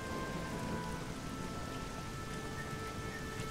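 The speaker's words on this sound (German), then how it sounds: "So, und es regnet ganz toll." Steady rain falls in the video game Risen, a dense, even hiss of drops on surfaces that fills the whole stretch without a break, with no talk over it.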